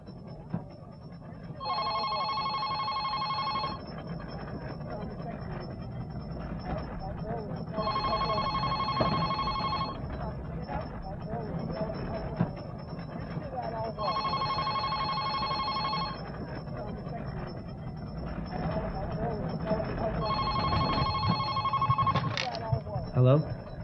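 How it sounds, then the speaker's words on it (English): A telephone bell rings in four evenly spaced bursts, each a couple of seconds long, over a steady background hum in a short film scene. "Hello?"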